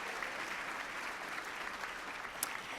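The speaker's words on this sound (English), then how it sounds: "let's give Cole a round of applause." A student innovator gets a round of applause from an audience at an education awards tribute in Toronto, steady clapping from many hands that holds evenly at a moderate distance.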